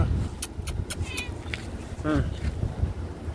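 A pet cat gives a couple of short close meows amid bursts of clicking and a voice speaking, over a low rumbling background.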